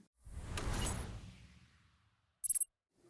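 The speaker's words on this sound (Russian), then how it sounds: "Поэтому дверь закрывается очень и очень плотно." The door of a META-BEL Seliger fireplace stove swings shut in a soft whooshing sweep that fades out, followed by a quick rattling metallic click of the latch.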